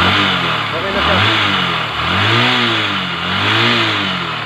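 Motorcycle engine fitted with a fresh diaphragm-type carburetor and spring, revving steadily at high RPM in a continuous close, loud drone with rhythmic rises and falls in pitch, no talk over it.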